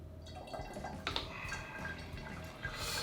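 Spiced pumpkin syrup drips slowly through a very fine sieve in a kitchen, a soft, irregular patter of liquid drops falling close by with a faint background hum.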